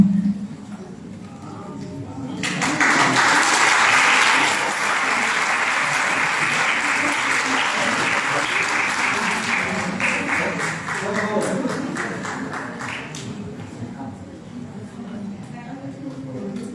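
Audience applause breaks out at a municipal innovation workshop for women mayors as an award is handed over, a dense, sustained clapping of a sizable room that swells quickly, holds for about ten seconds, then tapers off.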